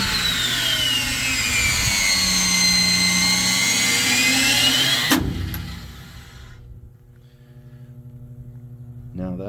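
Motor recharging the spring mechanism of a high voltage circuit breaker, a loud whirring drone with a rising whine, then a sharp mechanical clunk and a lower fading hum.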